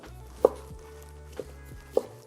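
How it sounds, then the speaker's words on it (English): A knife roughly chops turkey on a cutting board, three sharp, separate thuds spaced about a second apart, close and clear with no talking. "Got some turkey that I just want to roughly chop."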